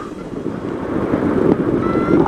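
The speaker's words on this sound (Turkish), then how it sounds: "Şimdi bayağı bir rüzgar var kuzeyden, kuzeybatıdan esen." Steady broadband wind rumble from the north-northwest buffeting the microphone on an exposed hilltop hang-gliding site at İnönü, rising slightly in strength, with no voices.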